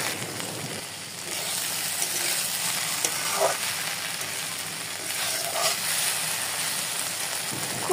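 Prawns coated in turmeric and salt fry in a pan with a steady close sizzle, broken by occasional scraping stirs.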